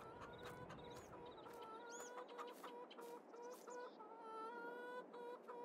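Chickens cluck on a farm in Farming Simulator 22, a steady chorus of short, bright clucks and calls over a soft ambient bed, with no voices.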